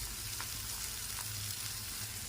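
Onion and spices sizzle steadily in a pan, a soft continuous frying hiss with faint stirring clicks, heard alone at low volume.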